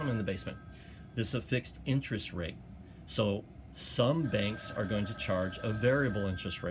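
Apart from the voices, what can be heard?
telephone ringing in the background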